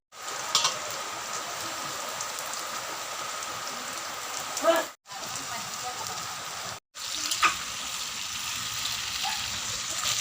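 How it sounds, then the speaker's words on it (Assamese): Rain falling steadily in a garden, a soft continuous hiss of drops at moderate distance, broken by two brief dropouts, with occasional louder close drips and faint voices in the background. "বৰষুণ দিছে, গোটেই তিতিছোঁ যাওঁ পাই।"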